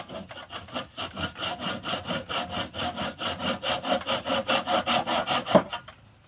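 A hand saw cutting through wood at a 45-degree angle for a mitre joint, steady rhythmic back-and-forth strokes close up, about three per second, ending with a final louder stroke as the cut finishes.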